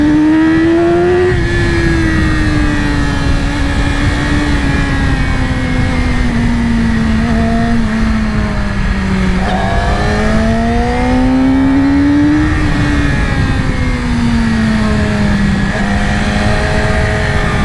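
A 2020 Yamaha R6 sport motorcycle being ridden, its engine loud and close with a steady high whine that rises and falls through gear changes and throttle, continuous for the whole stretch with no talking.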